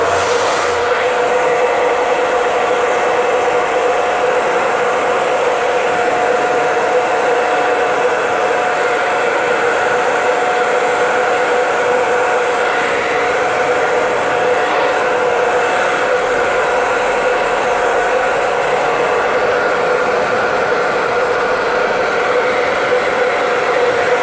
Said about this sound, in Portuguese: bater no secador no cabelo